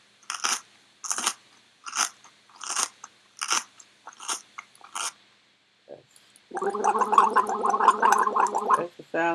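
A sound effect of someone gargling and then eating: a run of short, separate wet gurgling bursts, a brief pause, then a dense, steady stretch of crunchy chewing and biting noises, close and loud.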